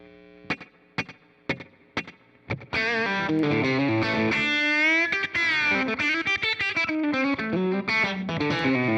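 Electric guitar through a Line 6 Helix floor unit with drive and reverb: a few clipped single plucks, then loud sustained distorted chords and lead lines ringing with a reverb tail, no talking.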